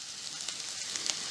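Chopped tomatoes sauté with softened onions in a hot pan, giving a brief, soft, steady sizzle with a few faint crackles and no talking.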